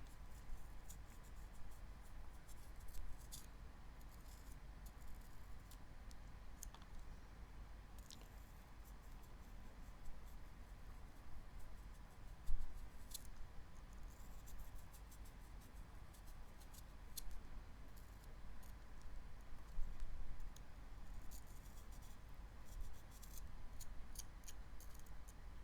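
A small knife slowly carves a rose, lotus or tulip flower from a vegetable held in the palm, giving faint intermittent scraping and cutting ticks under a steady low room hiss.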